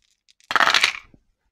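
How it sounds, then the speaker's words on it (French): Six dice clatter and rattle across a hard surface in one quick burst during a tabletop war game, then settle into quiet. "Donc, je lance mes 6 dés."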